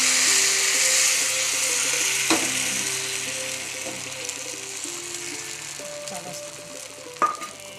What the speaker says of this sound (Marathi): तवा तापलाय, आता तेल टाकले. आता अशी वाटी घेऊन